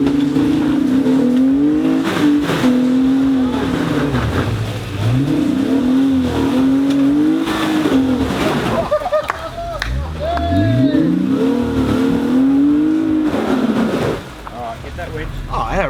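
Loud 4x4 off-road truck engine revving hard in rising and falling surges during a snatch recovery up a steep dirt hill, with wind and rough roar throughout and a sudden drop near the end.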